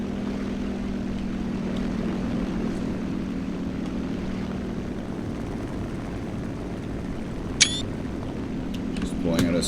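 SB2C Helldiver propeller aircraft in War Thunder, a steady droning engine hum held throughout, with a brief sharp click partway through and a slight swell near the end.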